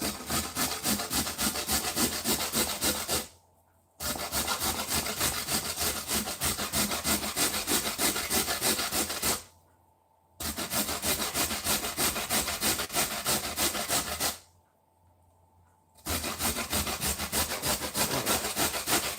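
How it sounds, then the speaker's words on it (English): Food is worked against the fine side of a box grater in fast, rasping back-and-forth strokes, with loud continuous runs broken by three short pauses. "So we're going in with the grater. I think I'm gonna do fine grate."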